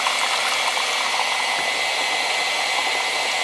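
Split pea soup churns under a mixer's steady high whirring drone, a constant, fairly loud motor hiss with no pauses.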